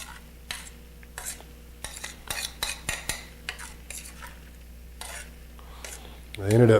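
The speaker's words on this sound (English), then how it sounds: "we're going to go ahead and add most of the cheese sauce" Cheese sauce being stirred into homemade mac and cheese with lobster: scattered clinks and scraping taps of a utensil against a pot, irregular and moderately close, ending in a louder rustle.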